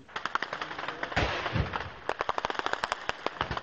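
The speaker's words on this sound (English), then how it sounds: "It provokes an eruption of machine gun and anti-aircraft fire from the rebels and an immediate response from government forces." Rebel machine gun and anti-aircraft fire in a Libyan conflict zone crackles in rapid bursts of sharp reports, with a heavier thump partway through, heard from a distance at moderate loudness with no speech.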